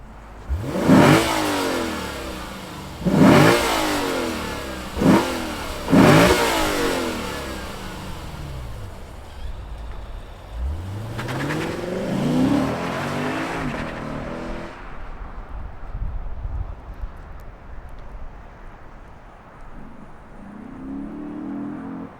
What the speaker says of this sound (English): let's fire up this V8 and hear what it sounds like